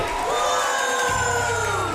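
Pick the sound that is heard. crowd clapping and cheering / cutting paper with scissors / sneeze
crowd clapping and cheering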